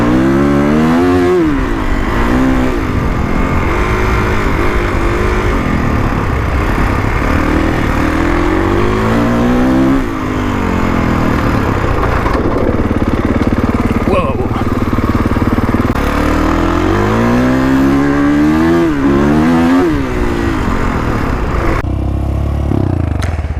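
A 2021 Kawasaki KX450X dirt bike engine revs repeatedly for a launch, loud and close, its pitch rising and falling in quick throttle blips over a rough idle, with a rider talking over it.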